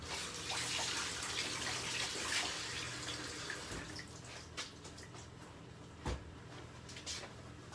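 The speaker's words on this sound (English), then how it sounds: "I'm actually going to give these a little rinse." Tap water runs faintly into a sink as peppers are rinsed, a soft steady splash with occasional small knocks and drips, quiet and close.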